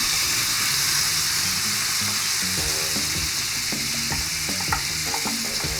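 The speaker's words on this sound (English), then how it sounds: "Lightly pan frying these." Steady sizzling of carrots lightly frying in a pan, with occasional stirring clinks and scrapes, close and continuous with no talking.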